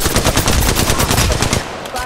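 Rapid automatic gunfire in a ranked online shooter game, loud and close, a fast even stream of shots that cuts off into a brief tail near the end.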